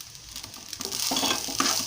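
Fried rice frying in a pan, a soft sizzle with faint stirring that grows slightly louder toward the end.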